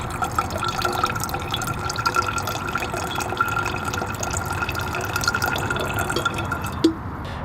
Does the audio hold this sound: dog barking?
no